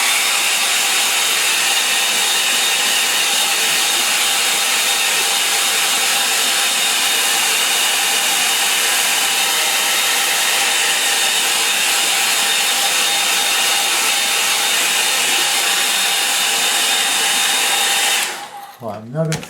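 A hair dryer blows over a watercolour painting of the River Wye, a loud, steady whirring roar running without pause until it clicks off at the very end.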